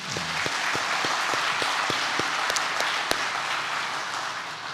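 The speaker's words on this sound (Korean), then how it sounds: "우리 하나님께 영광의 박수 하겠습니다" A church congregation at a Sunday worship service applauds, with dense, steady clapping filling the room and a few louder individual claps standing out, continuing evenly throughout.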